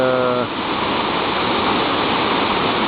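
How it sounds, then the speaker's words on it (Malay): A waterfall at Sungai Kedondong in Batang Kali, Selangor, swollen after midday rain, roars as a dense, steady rush of falling water, loud and close, after a brief tonal sound at the very start. "Lihatlah betapa indah dan cantiknya air terjun ini"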